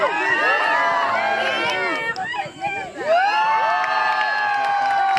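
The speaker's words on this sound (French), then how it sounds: "on peut pousser des cris de joie" Wedding congregation at a religious marriage ceremony cheering, whooping and shouting for joy, a loud, sustained crowd roar with overlapping voices and a brief dip midway before swelling again.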